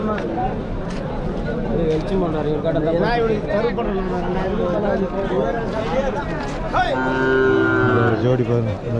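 Cattle at a Vaniyambadi cattle market moo repeatedly and loudly over a constant market din, with long drawn-out calls standing out near the end, while people talk nearby.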